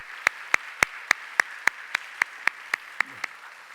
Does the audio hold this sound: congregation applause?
yes